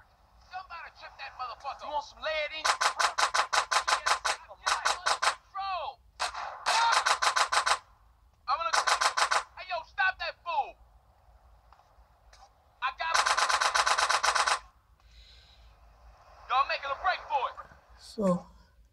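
Bursts of rapid video game gunfire from GTA San Andreas, played at maximum settings on a Karbonn Sparkle V Android One phone, alternate with stretches of close, loud talking, with several volleys of sharp shots.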